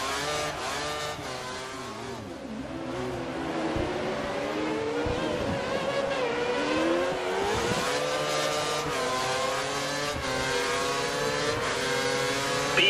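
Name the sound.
race car engines in video game F1 2013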